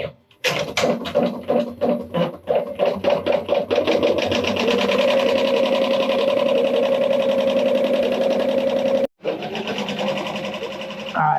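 A Happy Japan 15-needle embroidery machine stitching a cap starts with a few spaced clacks, then settles into a steady, fast, loud mechanical whir of needle strokes that runs on, pausing briefly once near the end.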